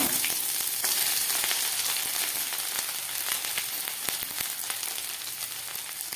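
Black cumin, fennel seeds, asafoetida and grated ginger fry in hot oil, giving a steady, close, dense sizzle with scattered pops and crackles throughout.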